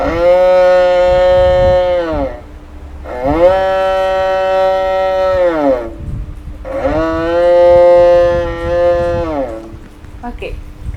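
A child imitates a cow with three long, loud, droning moos, each held for about two seconds with short pauses between, voiced close to the microphone.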